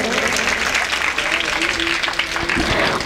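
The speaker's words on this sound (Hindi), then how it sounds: "माताओं तालियों तो बजा दिया करो" Audience at a Hindi devotional singing program clapping, continuous applause mixed with voices and some musical tones.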